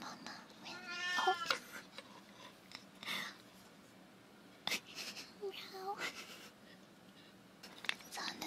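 An old cat meows a few times, close by, with a rough, drawn-out cry early on and softer calls later, amid faint room noise.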